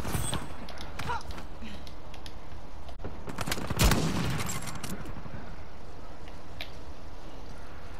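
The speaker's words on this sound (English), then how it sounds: "These guys actually using rapid fire." Rapid-fire gunfire in the multiplayer game Uncharted 4 comes through as quick, crackling bursts of shots, loudest in a cluster near the middle, over a steady background of game noise.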